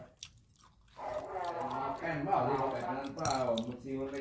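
Chewing on stir-fried basil with marinated pork, a soft, wet mastication heard close up with light crunches, running under a voiced murmurs.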